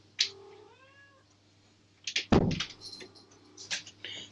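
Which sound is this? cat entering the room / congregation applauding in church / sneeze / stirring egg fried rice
cat entering the room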